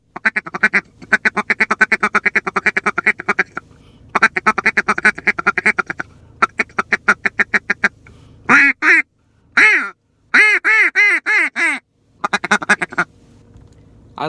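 A Field Proven duck call blown in bursts of rapid quacking series, then several drawn-out, loud nasal quacks, with brief pauses between sequences.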